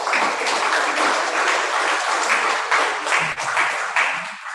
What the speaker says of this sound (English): So please give your big applause.